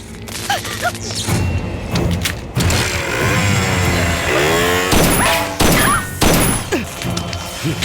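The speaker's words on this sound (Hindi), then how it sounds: "गोलियां मत चलाइए।" Sharp loud bangs and thuds of gunshots burst out over a tense, noisy film scene, with voices shouting in between the shots.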